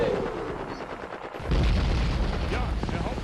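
Loud, sustained gunfire from the Conflict of Heroes: Awakening the Bear wargame, with rapid machine-gun bursts and heavier booms that swell after a brief lull, sounding close and dense. A voice talks faintly underneath.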